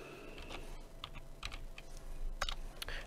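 Someone types a name on a computer keyboard, quick irregular key clicks over a low steady background hum, close and fairly quiet, with no voice.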